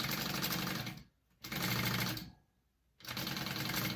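Close sewing machine basting a fabric panel for a unisex tote bag, running in steady rapid stitching bursts with two short pauses between runs.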